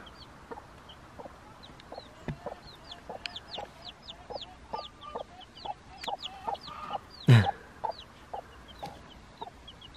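Chickens clucking in a barn or coop, a steady stream of short soft clucks and chirpy peeps at moderate distance, with a sharper squawk near the end over faint background noise.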